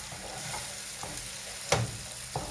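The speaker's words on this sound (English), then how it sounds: "I will give it a proper stir. I put in the sandine" Sardine mixture stirred in a frying pan while making toast bread with sardine and egg; a soft continuous sizzle with a few sharp spatula scrapes, close and fairly quiet.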